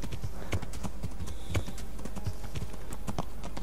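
Horse hooves clip-clop in the medieval video game Kingdom Come: Deliverance, a regular near plodding rhythm of hoof strikes over a constant low background hum, with no talk.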